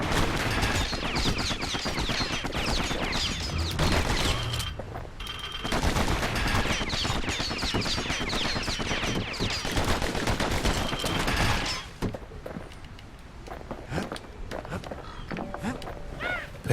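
Rapid bursts of slinger pistol gunfire crackle through a chaotic Dark Souls 2 game fight, dense and loud with overlapping shots, while a voice talks over much of it.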